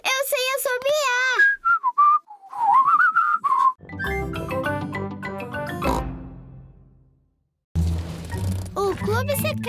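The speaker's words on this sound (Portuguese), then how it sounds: "Veja, Peppa, isso está parecendo um assobio. Que linda melodia." Someone whistles a wavering, sing-song melody in a Peppa Pig cartoon, followed by cartoonish voices and a pig's snorting sound, loud and close.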